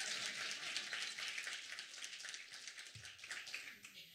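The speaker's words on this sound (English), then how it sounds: "You can clap." A small audience at a team's final presentation claps for an arriving speaker, soft, fairly even applause heard at a distance in a room, fading slightly toward the end.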